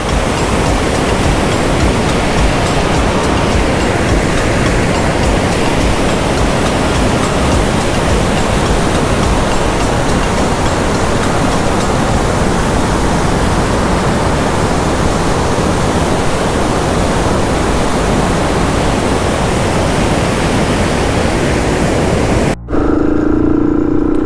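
Chelavara waterfalls in Coorg roar in a loud, steady, dense wash of falling water that fills the whole stretch close up, cutting off abruptly near the end.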